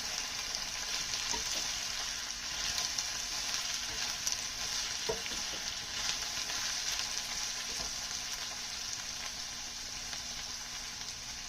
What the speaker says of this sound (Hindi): और अब ये सब्ज़ी जो है वो स्लोली फ्राई हो रही है